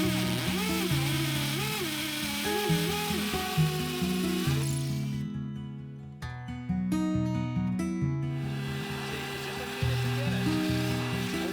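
A power drill with new bits boring holes on a front porch, the motor whining in repeated bursts with pitch shifting as it bites, close and loud, with no talking.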